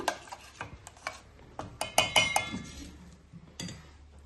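A spoon stirs multani mitti clay into water in a bowl, tapping and clinking against the sides in irregular, close bursts, with quiet gaps between them.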